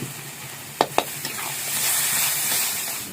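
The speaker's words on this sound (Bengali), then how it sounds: "হালকা একটু জল দিয়ে কষাবো।" Spices with Kashmiri chili for Kashmiri aloo dum sizzle in a pan with a splash of water, giving a steady close hiss broken by a couple of sharp stirring knocks, with no talking.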